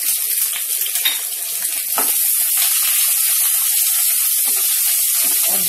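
Chopped onion and green chili frying in a pan of oil for Mumbai-style kanda poha, giving a steady, close, hissing sizzle with a few small crackles and pops, no talk over it.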